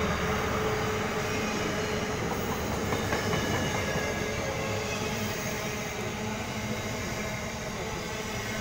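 A freight train rolls past on the railway at Hurlstone Park in Sydney, a loud continuous rumble with clattering wheels that holds steady for the whole stretch, with no talking.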